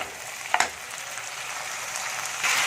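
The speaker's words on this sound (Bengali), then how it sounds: "আলুটাকে ভালো করে আমি ভেজে নিচ্ছি তেলের মধ্যে।" Thin-sliced potatoes frying in oil, a steady broadband sizzle with a brief louder clatter early on and the hiss swelling near the end, no voices.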